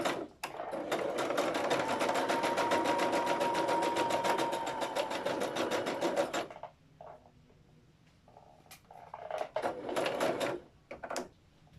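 A sewing machine stitches fabric in a loud, steady whirring run for about six seconds. It then stops, leaving a few quieter clicks and short mechanical bursts as the work is adjusted.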